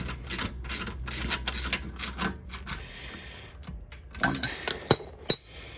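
Hand tool tightening rear wheel hub bolts on a Jaguar X-Type 3.0 V6 AWD, a close run of quick metallic clicks and ratcheting taps, followed by a few sharper clinks.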